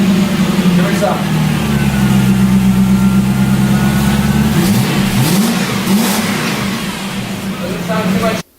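A car engine with its rear two of four muffler sets removed revs loudly and repeatedly, a rough, throaty drone with rising and falling pitch that holds steady before cutting off abruptly at the end.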